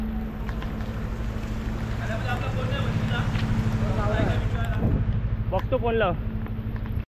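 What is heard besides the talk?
strong wind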